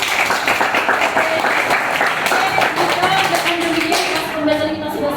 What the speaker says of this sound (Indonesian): maka tepuk tangan untuk kita semua.